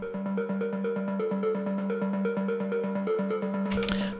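Higher-pitched Diva soft-synth trance arpeggio from a psytrance/trance fusion production, evenly repeating bright plucked notes in a fast loop, played alone, ending with a short burst of white-noise swell.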